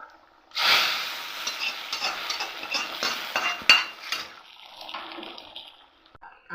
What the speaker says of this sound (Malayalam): ഇത് നമുക്ക് കറിയിലേക്ക് ഒഴിച്ചു കൊടുക്കാം.